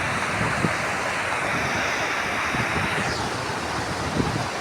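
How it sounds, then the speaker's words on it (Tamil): Palar river water rushing past a check dam, a loud continuous broadband roar of flowing water with wind buffeting the microphone throughout. "பாருங்க, பாருங்க எப்படி போகுது பாருங்க தண்ணி."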